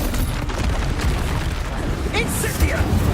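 Blasting explosion effect from an Expulso curse in a Harry Potter game, a dense booming burst with crackling debris amid a busy spell-casting fight, while a voice shouts over it.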